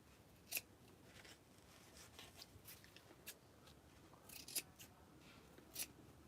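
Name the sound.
scissors trimming excess material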